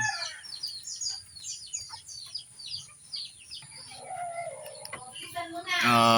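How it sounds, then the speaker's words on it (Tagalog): Chickens in a small backyard coop cluck and call intermittently, the sounds fairly soft and spaced out over a quiet background, with a few higher chirping bird notes mixed in. "At tayo magpapakain naman sa ating munting manukan."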